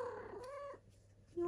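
A cat on a bed gives a close, soft purring trill for under a second, which falls away into near silence before a short tone returns at the end.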